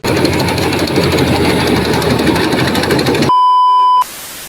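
A harvesting machine runs in a field with a loud, steady engine roar and rhythmic knocking. Near the end the roar cuts out for a sustained electronic beep tone, and then a quieter hiss remains.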